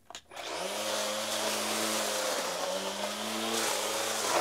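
SENIX string trimmer fitted with cutting blades: after a brief clatter the two-stroke engine starts and runs at a high, steady buzzing whine, close and loud, with slight dips in pitch as the throttle varies.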